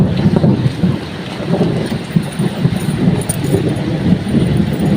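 Steady heavy rain with thunder rumbling beneath it in a low roar, a continuous dense wash of noise and no voices.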